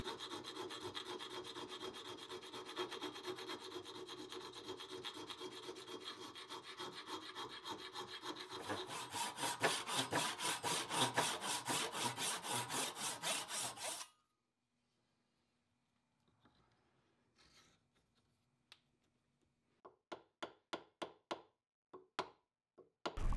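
The eye of a cast aluminum bronze hatchet head is widened with steady, close rasping strokes for about fourteen seconds, growing louder and faster near the end. Near-silence follows, then scattered light taps and knocks.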